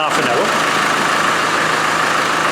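A car engine idling steadily while warming up during a radiator flush and coolant change, a constant mid-low rumble with broadband noise and no change in revs over a few seconds.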